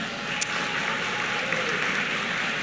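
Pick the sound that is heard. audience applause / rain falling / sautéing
audience applause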